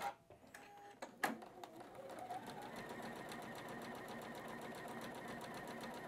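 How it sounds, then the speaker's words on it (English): A Juki sewing machine starts with a few clicks and thumps, then runs steadily at speed, its needle chattering in a fast even rhythm while chain piecing fabric, close and fairly loud. "as I touch the gas on this new Juki"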